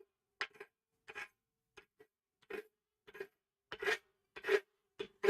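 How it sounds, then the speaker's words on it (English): A hand rasp files the corners off a workpiece in a smithy, giving a series of short, distinct scraping strokes in an uneven rhythm that grow louder toward the end, with quiet gaps between them. "Everybody loves hearing the rasp, right?"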